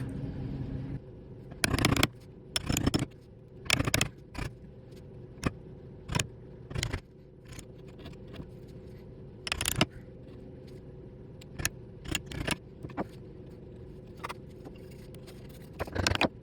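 A wood chisel shaves down a tenon on a night stand leg in short, irregular scraping strokes, close and fairly crisp, with quiet pauses between the cuts.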